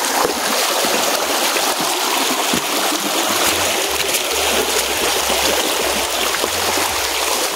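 Steady rushing water of a flowing river fills the clip, a broad continuous hiss, close and even, with occasional low thumps underneath.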